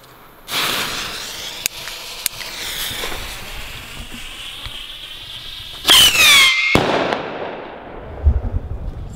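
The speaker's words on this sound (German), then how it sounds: "Fangen wir mal an mit der Vogelschreck-Rakete mit gelber Kappe." A Star Trade bird scarer rocket with a yellow cap launches with a loud rising shriek and hiss, then a second sharp screaming burst near the end, followed by fading crackle outdoors; no bang.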